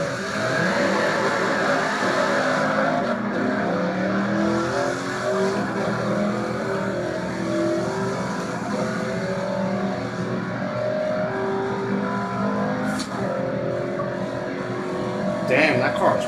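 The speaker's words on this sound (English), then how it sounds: "Damn, that car is pretty fast." A third-generation Corvette accelerating in a half-mile drag race in Forza Horizon 2, its engine roaring and revving continuously, with people talking over it.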